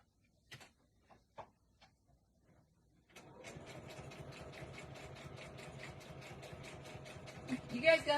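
A sewing machine stitches Christmas labels, starting after a few scattered clicks and handling noises, then running in a steady close mechanical whir with rapid rhythmic needle beats that speed up slightly near the end.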